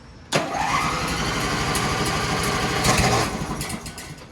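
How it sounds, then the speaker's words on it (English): An HKS RB28 stroker engine cranks briefly with the choke on, then catches and fires up, settling into a steady loud running rumble with a slight rev near the end. "Listen to that thing crank now."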